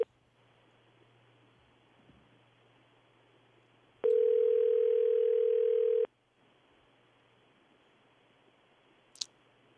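A telephone line rings once during a live French-language radio call-in show. The steady two-second tone is clear over a faint hum and ends with a short click.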